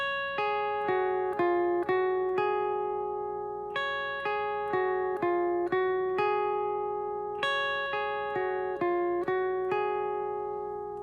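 Electric guitar plays a melodic line on the high strings, clean plucked notes ringing one after another in a steady phrase that walks down and back up, loud and alone.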